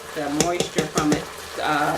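A spoon scrapes and stirs pork chops browning in a pan for ranch pork chops, giving several sharp scraping strokes over a soft sizzle while someone talks.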